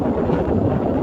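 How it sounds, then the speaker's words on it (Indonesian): Strong wind at sea beside the ship KM. Barcelona sailing from Manado toward the Talaud Islands, heard as a steady, broad rushing roar without talk. "Dan saat ini cuaca sedang angin kencang dan agak sedikit bergelombang."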